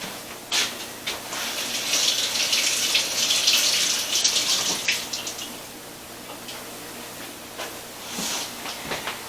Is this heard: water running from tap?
yes